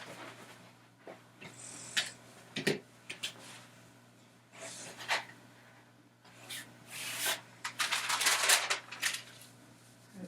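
Fabric shears cut through woven fabric in a series of short, crisp snips and rustles, some isolated and some in quick clusters, close up against a quiet room.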